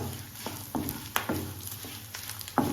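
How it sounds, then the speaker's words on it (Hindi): Ingredients roasting in a pan over a low flame while being stirred continuously, with a quiet sizzle broken by regular utensil scrapes about every half second, close, no talking. "इस तरह से कंटिन्यू चलाते हुए हम इसको धीमी धीमी आंच पर अच्छे से भून लेंगे"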